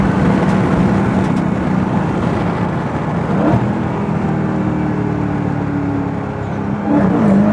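Dodge Charger SRT Hellcat Widebody pulling hard under acceleration, a loud, sustained engine roar with a rising whine heard from inside the car, no speech.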